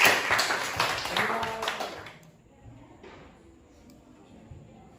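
Classroom students clap hands together in a brief burst of close, uneven clapping during a language lesson, with voices mixed in, before it drops off to a quiet room after about two seconds.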